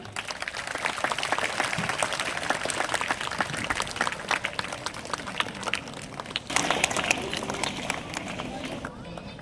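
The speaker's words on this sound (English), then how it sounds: "Keep clapping." Rhythmic clapping from a crowd at a church celebration of a priest's 25th ordination anniversary, lively and uneven with babble and voices mixed in, swelling briefly near the end.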